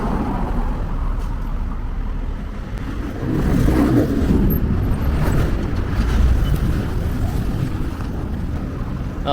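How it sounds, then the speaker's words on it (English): Busy road traffic in Santo Domingo's Colonial Zone, a dense continuous roar of passing cars and engines close by, swelling as vehicles rush past, with wind buffeting the microphone. "This road is so busy."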